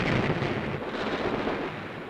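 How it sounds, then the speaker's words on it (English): Heavy bombs burst in a rolling, rumbling barrage during the World War II Bismarck Sea air attack on Japanese ships, a continuous low booming roar with old newsreel film quality and no talk. "dropping a total of 226 tons of bombs"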